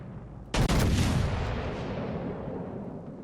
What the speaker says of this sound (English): we've got secondary guns firing like crazy, like a machine gun coming off the side of the ship